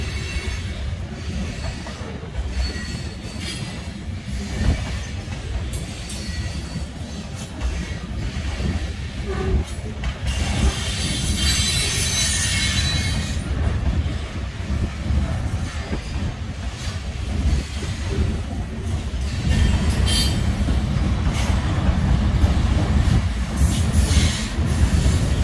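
A Norfolk Southern freight train rolls past at Taylor Yard in Taylor, Pennsylvania, picking up speed, its loud, continuous rumble laced with wheel squeals and clickety-clack joints that grow steadily denser.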